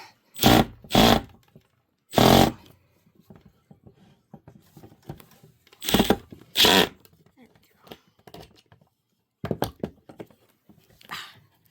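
A power drill driving screws into shelf brackets, several short loud bursts of the motor with quiet gaps between, plus faint handling noises.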